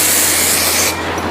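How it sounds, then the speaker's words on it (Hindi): Hair shine spray misted from a can onto a wedding hairstyle being set: a steady, close, loud hiss for about a second that cuts off sharply and leaves a quieter airy tail. "first you can do little shine spray,"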